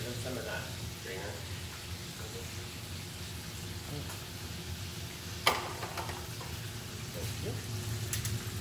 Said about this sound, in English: when you're frying chicken, it always needs to be moving